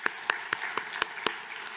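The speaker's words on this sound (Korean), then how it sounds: "우리 서로를 환영하며 박수하겠습니다" A Korean church congregation at a Sunday service claps to welcome one another, a sparse, fairly quiet patter with a handful of distinct hand claps at a roughly even pace, heard in a reverberant room.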